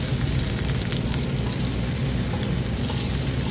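Butter sizzles and spits steadily in a hot pan while a pork chop is basted, a dense continuous frying hiss close up with no talk over it.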